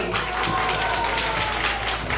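An audience at a Gauranga Gurukul gathering claps to welcome a guest, a loud, dense, continuous burst of applause throughout, with no voice over it.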